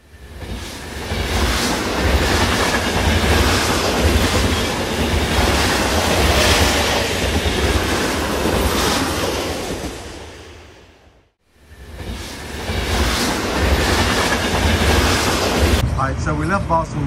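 A subway train heading from the MIT station in Boston rumbles and roars steadily, broadband noise and wind filling the whole stretch, dipping briefly once before resuming, with faint voices under it.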